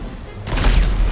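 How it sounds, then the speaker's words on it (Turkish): A plane blows up in the video game GTA 5, a sudden loud explosive burst that erupts halfway through and rumbles on with a crackling roar to the end. "Jet patlat. Let's go, şöyle uçağı patlat."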